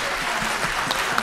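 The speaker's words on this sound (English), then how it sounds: "on peut les applaudir encore" Audience at a convention actor panel applauding, a dense continuous wash of clapping from a crowd, fairly loud and steady throughout.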